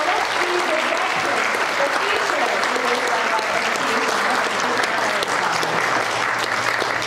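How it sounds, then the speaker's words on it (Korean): At a ceremony marking the 50th anniversary of an SDA Sahmyook language institute, the crowd claps steadily and loudly for the whole stretch, with faint speech in the background. "크게 박수로써 응원해 주셨으면 좋겠습니다."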